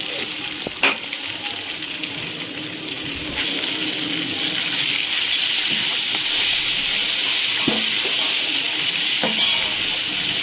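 Onion paste and spices for bhagara rice fry in a pot, a loud continuous hiss of sizzling oil with occasional sharp stirring clinks and scrapes, no one talking.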